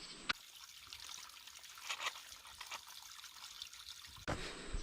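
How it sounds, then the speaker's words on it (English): Small mountain stream trickling across a hiking trail, a steady faint splashing and dribbling of water with brief louder rustles at the start and end. "there is a trickling water source coming down off the mountain right across the trail in front of us"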